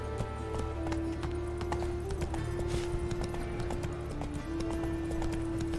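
Hoofbeats of Roach galloping in The Witcher 3 pound in a fast, steady clip-clop, close and loud over a sustained musical drone for the whole stretch.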